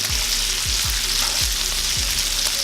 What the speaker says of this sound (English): Get a nice beautiful color on these sausages.